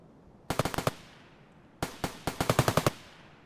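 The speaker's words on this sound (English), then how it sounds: "Gunshots are really close now." Rapid bursts of video game gunfire, sharp cracks in quick clusters of five or six shots, then a short pause and another longer volley, fairly close.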